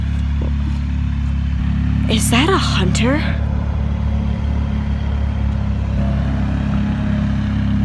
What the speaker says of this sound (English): And why is there a tractor in the back field?